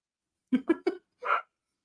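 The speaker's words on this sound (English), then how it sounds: "one is going to get eaten by the dog that just barked" A dog barks indoors in a quick run of three close barks, then a short pause and a fourth, rougher bark, fairly near and with nothing else around it.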